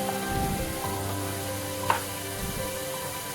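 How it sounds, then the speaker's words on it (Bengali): Masala of ground turmeric, cumin and chili powder sautéing in a pan for a fish-head dish with Gobindobhog rice and mung dal, giving a steady close sizzle and frying hiss with a brief stir clink midway. "এবার সব কিছু আবারও ভালো করে কষাতে হবে"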